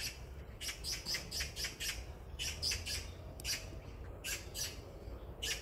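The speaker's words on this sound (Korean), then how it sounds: "저 우는 까치" A magpie calls repeatedly on a wooded hillside path lined with camellia trees in Haeundae, giving a series of harsh, rhythmic squawks in bursts, moderately distant over steady outdoor ambience.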